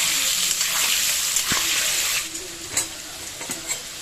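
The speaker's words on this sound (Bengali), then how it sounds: "দিয়ে দিলাম সামান্য লবণ আর সামান্য হলুদ ভালো করে নেড়ে চেড়ে এটাকে লাল করে ভেজে নেব" Potatoes fry with salt and turmeric under a loud, close sizzle while being stirred. The hiss then eases and is broken by sharp scraping and clinking strokes of the spoon in the pan.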